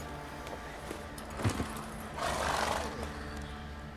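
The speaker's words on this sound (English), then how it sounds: "Whoa there, Roach" A horse in The Witcher video game whinnies and snorts while its hooves clop along, set against a low, steady game ambience.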